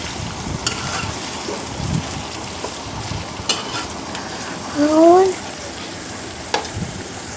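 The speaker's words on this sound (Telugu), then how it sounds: "సిమ్లో పెట్టుకొని ఫ్రై చేసుకుంటే త్వరగా ఫ్రై అవుతాయి." Ivy gourd (tindora) frying in a pan over low heat, a soft continuous crackle with a few light scrapes of stirring and one brief whistling tone, with no talk.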